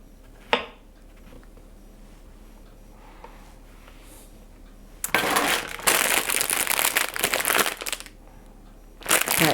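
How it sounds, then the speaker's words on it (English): A knife slicing mushrooms on a cutting board while preparing vegan spicy tofu ramen: a lone sharp click, a quiet stretch, then about three seconds of dense, rapid, close cutting, with another burst of slicing at the very end. "I'm going to take these mushrooms and I'm just going to slice them"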